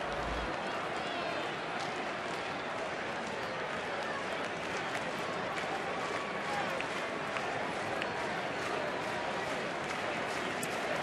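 A packed baseball crowd at Miller Park in Milwaukee keeps up a loud, continuous roar of chanting and cheering for the home slugger Casey, dense and unbroken throughout, with a broadcaster's voice talking over it.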